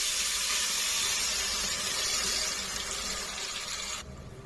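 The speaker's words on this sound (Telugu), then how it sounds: "చింతపండు గుజ్జు పోసుకోవాలండి." Tamarind pulp poured into a pan of hot oil while making temple-style tamarind rice, a loud, steady sizzling hiss that holds evenly and then drops off sharply near the end.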